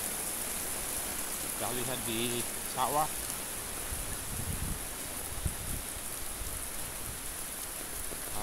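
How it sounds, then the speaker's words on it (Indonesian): Heavy rain pours steadily over a housing estate beside rice fields, a constant hiss of falling water with someone talking briefly over it. "Hujan cukup deras sekali."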